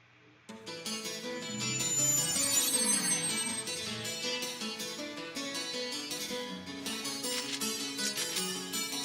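A melodic phone ringtone plays inside the video game .hack//G.U. Last Recode, a bright, repeating electronic tune that sounds clear and steady throughout, with no voices over it.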